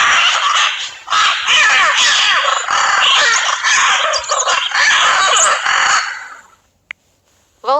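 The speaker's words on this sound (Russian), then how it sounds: "Попугай Ара." Macaw parrot calling with dense, harsh, raucous squawks, loud and continuous for several seconds, several birds overlapping, then cutting off.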